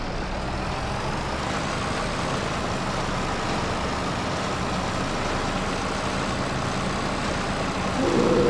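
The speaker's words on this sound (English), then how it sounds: "This is a mulcher." Steady engine drone from a tractor pulling a mulcher in a farming simulation game, a dense continuous rumble held at even loudness throughout with no speech, swelling slightly near the end.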